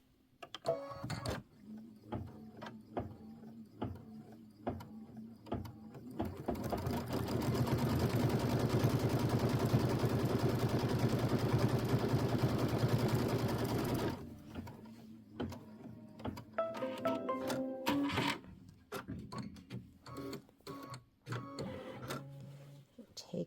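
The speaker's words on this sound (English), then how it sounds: "Make sure that the needle goes in there and holds it down when it's stitching." A sewing machine stitching a Kimberbell quilt block runs loud and steady for about eight seconds, set between softer mechanical clicks and handling noises, with a voice talking around it.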